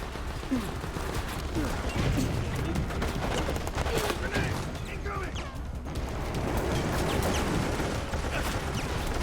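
Rapid bursts of gunfire and crashing impacts in the shooter game Resident Evil: Operation Raccoon City, dense and continuous over a busy mix of game sound, with voices speaking over the action.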